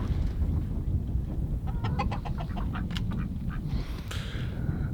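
Chickens in a backyard chicken coop cluck and squawk in a brief cluster of calls over steady low outdoor rumble, with no talking.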